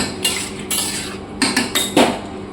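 Chicken masala with tomatoes being stirred in a pan, several sharp metal spatula scrapes and clanks against the pan in quick bursts, loud and close, with a low sizzle between strokes.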